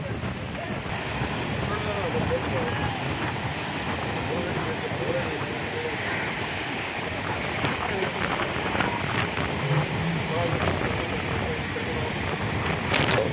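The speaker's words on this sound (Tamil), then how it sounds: "காற்று ஓவராக அடிச்சுக்கிட்டே இருக்கு." Strong, steady wind buffets the microphone at Kottivakkam beach, a broad continuous roar with surf mixed in, loud throughout with no break.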